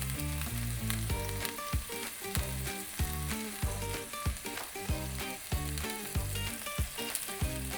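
Scallops sear in a hot pan over medium heat, a steady close sizzle and crackle that runs throughout over a musical background.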